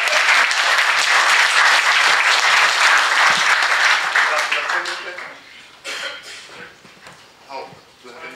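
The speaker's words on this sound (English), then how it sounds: "Yeah, you can clap." Audience applause at a Drupal 6.0 theming conference talk, a dense, loud wash of clapping that holds steady for about five seconds, then thins out into scattered claps and fades under murmuring.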